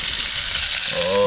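Garlic butter sizzles and fries steadily in a hot pan for crayfish, a continuous close hiss with a slight rise in intensity near the end.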